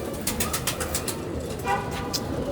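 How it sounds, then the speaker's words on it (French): Pigeons being fed by hand: a quick series of soft, close coos and wingbeat-like flutters in short bursts, with brief spoken words. "je commence à nourrir les pigeons"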